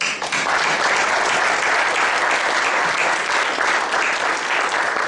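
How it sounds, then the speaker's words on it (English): A large audience applauds steadily at a start-up forum event, a dense and continuous clatter of many hands clapping that keeps up its level from beginning to end with no voices standing out. "A big round of applause."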